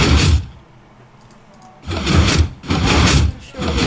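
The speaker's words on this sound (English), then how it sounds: "This door you might recognize from my other video on my really fast piston door." A Minecraft quasi-connectivity piston door clanks through repeated opening and closing cycles, with sharp mechanical bursts of piston pushes separated by a short quiet gap, close and loud with no talk.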